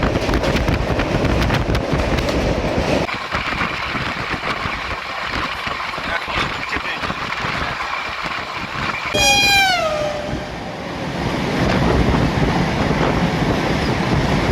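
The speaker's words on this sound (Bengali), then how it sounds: "ভালোই যাচ্ছে ট্রেন।" The Shalimar to Puri Dhauli Express runs along with a steady, loud rumble of wheels and carriage noise throughout, broken midway by a sharp, rising-and-falling horn or squeal lasting about a second before the rolling din resumes.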